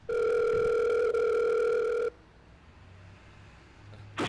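A telephone tone sounds loud and steady for about two seconds on an outgoing call, then cuts to quiet line hiss with a faint click at the end.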